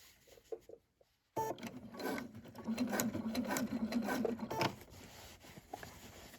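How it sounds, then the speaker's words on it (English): Sewing machine stitching down the seam of a jean leg during a taper alteration, a steady close mechanical whir running about three seconds after a brief pause, with fabric rubbing as the denim is fed through. "as long as you can feed the seam straight into your needle, it might work rather than scrunching it up the entire way"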